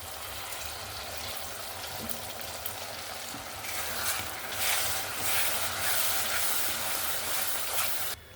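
Ground spice paste sizzles as it is mixed into already-fried onions in a pan for a Bengali chicken and potato curry, a steady close hiss that swells louder partway through with faint stirring scrapes and no talk.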